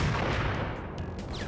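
A booming shot from a sniper rifle in the video game Max Payne, loud and full with a rumbling tail that fills the short moment.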